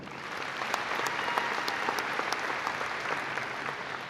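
Steady applause from a large audience at a high school graduation ceremony in Lewisville ISD, a continuous dense clatter of many hands clapping at moderate distance for several seconds.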